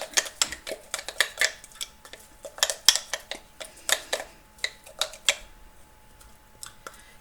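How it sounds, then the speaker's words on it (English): A spoon stirs sourdough starter in a jar, making a close, quick run of clinks and scrapes against the glass that thins out and stops near the end. "Give it a good stir."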